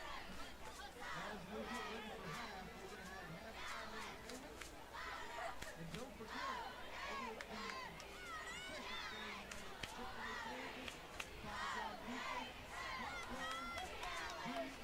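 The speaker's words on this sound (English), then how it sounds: "Here are cheerleaders down there cheering on the Mustangs." Cheerleaders and a crowd cheer at a Friday night high school football game, a dense outdoor wash of voices, shouts and chanting, with people talking throughout.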